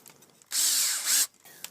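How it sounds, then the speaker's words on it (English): A power drill bores into wood while a pergola is being built over a hot tub, a single loud, steady whir lasting under a second, with quieter handling noises before and after. "Left-handed drilling."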